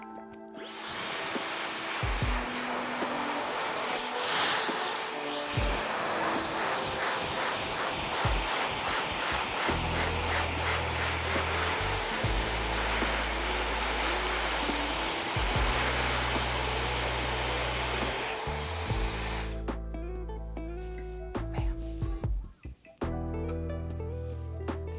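A handheld hair dryer fitted with a nozzle roars close by in a continuous broadband rush while hair is blow-dried, with background music playing and a brief shift in the blowing near the end.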